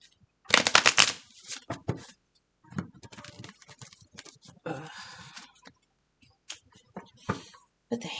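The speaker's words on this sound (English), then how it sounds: "Now you get to see the crazy way I shuffle." A deck of tarot cards is shuffled by hand in rapid riffling bursts, close and crisp, with pauses and softer card handling in between; no voices.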